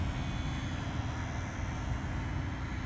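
A HobbyZone Sport Cub S 2 RC airplane drones steadily overhead, a continuous buzzing motor hum with even loudness throughout, no voices heard.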